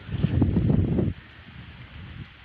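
Strong gusty autumn wind roars against the microphone for about a second, then drops to a low, steady rustle of blowing leaves by a garden pond.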